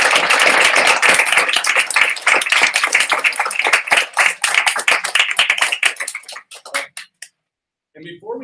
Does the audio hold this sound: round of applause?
yes